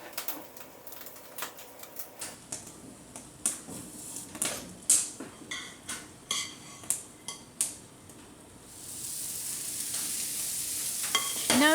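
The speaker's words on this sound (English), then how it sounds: "Note the sizzle when the batter is poured onto the hot waffle iron." Batter hisses and sizzles on a hot cast iron waffle iron, rising to a steady loud sizzle after a series of sharp clinks and taps from utensils.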